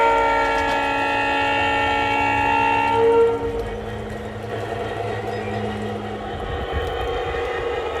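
G scale model coal train running through an S-curve on an outdoor garden railroad, with a sustained multi-tone horn for several seconds over rolling wheel rumble that continues after the horn stops.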